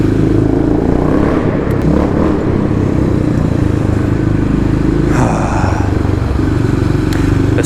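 A Kawasaki KLX351 motorcycle engine rumbles loudly inside a parking garage, a steady close-up drone with brief revs echoing off the concrete.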